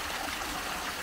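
Water rushing steadily through a small sand sluice, a continuous close hiss and gurgle of flowing water with no voices.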